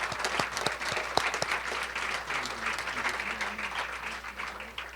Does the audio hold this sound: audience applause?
yes